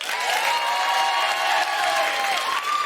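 A stand-up comedy audience in a Swansea venue breaks into steady, full applause with some crowd noise, sustained and fairly loud for the whole stretch.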